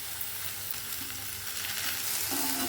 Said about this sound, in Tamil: கீரை இந்த அளவுக்கு வதக்கணுங்க